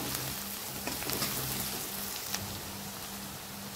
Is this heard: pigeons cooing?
no